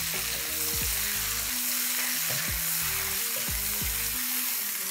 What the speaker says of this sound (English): Let's stir this well.